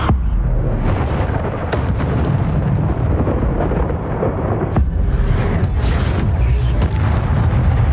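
Spell-cast explosions in the Hogwarts Legacy video game, a sustained loud rumbling boom with crackling bursts through the whole stretch, dense and continuous rather than a single blast.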